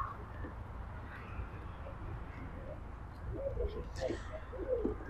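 Racing pigeons in cages at a race stage, giving soft, faint low coos that come and go against a quiet background hum, growing slightly busier toward the end.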